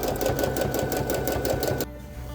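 A sewing machine stitches free motion quilting on a travel placemat, running in a steady, rapid rhythmic chatter up close for about two seconds before stopping abruptly, leaving a low hum.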